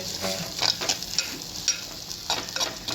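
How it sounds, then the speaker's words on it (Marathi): Masala paste frying in oil in a pan for a fish curry, with a steady close sizzle and crackle and soft stirring scrapes at irregular intervals, no voices. "आपण चांगली भाजून घेऊ ती पेस्ट"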